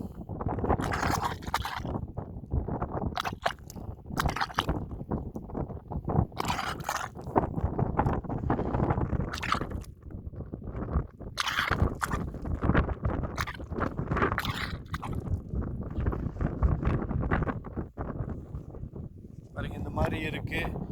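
A mud volcano at Gobustan, Azerbaijan, bubbles up from deep underground, giving close gurgling pops and bursts, heavily mixed with wind buffeting the microphone and a person talking throughout.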